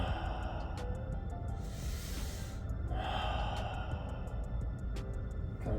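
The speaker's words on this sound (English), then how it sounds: "A few more deep breaths." Deep breathing during an alignment exercise routine, slow audible inhales and exhales rising and falling over a steady low background hum, with no talking.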